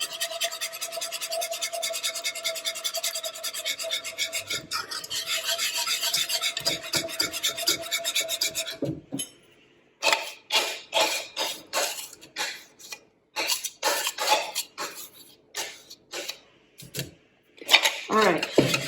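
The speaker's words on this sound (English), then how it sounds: "I'm going to slowly pour in my wheat mixture, my flour mixture, while stirring constantly" Flour paste being stirred constantly in a pot off the heat, a steady scraping rasp that runs continuously, then breaks into choppy, irregular strokes with short pauses.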